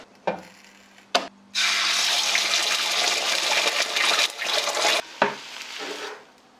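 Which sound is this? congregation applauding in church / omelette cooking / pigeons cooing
omelette cooking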